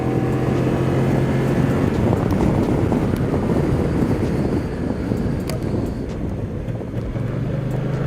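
Kymco CV3 three-wheeled scooter ridden and accelerating, its engine drone mixed with strong rushing wind noise across the microphone, loud and continuous throughout.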